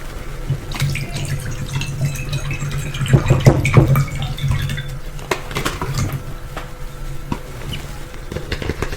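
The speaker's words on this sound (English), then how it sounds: "I'm going to fill the bowl up with some water" Water running from a tap into a bowl: a steady splashing stream with brief louder gushes and clinks in the middle, close by and alone.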